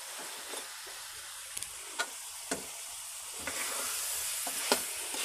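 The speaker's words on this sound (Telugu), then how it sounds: "కొద్దిగా ఇలా ఫ్రై చేసుకుందాం" Chicken pieces frying in a pan, a steady sizzle with occasional scraping stir strokes as the spoon moves the meat around, close and fairly quiet, no talking.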